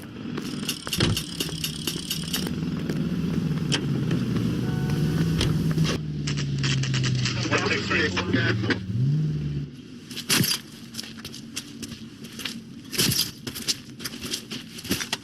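Car driving in the video game L.A. Noire, engine hum and road noise with clunks and rattles, shifting partway through, over a bed of game ambience and scattered effects.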